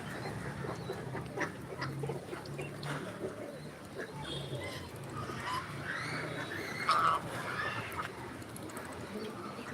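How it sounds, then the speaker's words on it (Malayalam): A flock of ducks quacking and chattering together outdoors on a farm, a steady busy mix of calls with some voices mixed in. "താറാവുകൾ കൂട്ടത്തോടെ പിന്നുണ്ട്"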